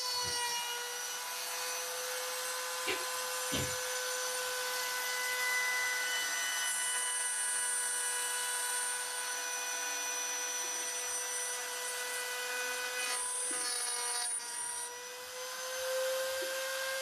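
A cutter on a spiral-groove jig cutting into wooden stock, piercing the sidewall, gives a steady high whining drone with faint grinding throughout and a couple of brief knocks, no voices.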